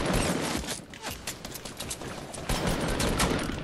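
Rapid bursts of automatic gunfire in the Fortnite video game crackle loudly and continuously, with dense overlapping shots and no spoken voices.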